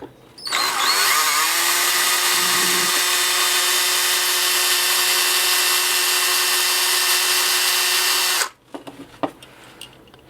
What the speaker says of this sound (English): I'm going to start to drill these pins out.